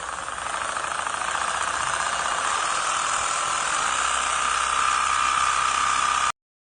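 A car engine runs steadily with its pistons and connecting rods cycling fast, making a continuous mechanical drone with a thin high whine and no breaks.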